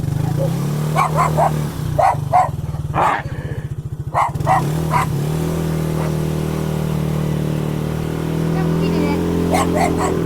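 A small dog barks in sharp, repeated yaps while chasing motorcycles, heard over a steady idling and revving engine drone, with people talking nearby.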